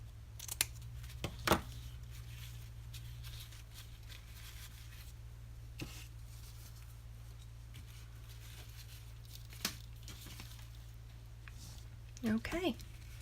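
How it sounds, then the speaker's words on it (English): Scissors trim loose ends off a 1.5 inch ribbon hair bow, a few quick close snips standing out over a steady low hum, faint and sparse. "And just trim those off."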